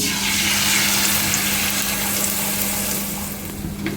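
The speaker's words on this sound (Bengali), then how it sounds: "ডিম ভাজা হয়ে গেছে, এখন নামায় নেব।" An egg frying in oil in a pan, a steady dense sizzle close by that fades slightly toward the end.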